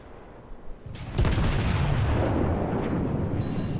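Secondary guns of a Colorado battleship in World of Warships open fire with a sudden loud boom, then roll into a sustained, dense barrage of overlapping gun blasts and rumble that holds to the end.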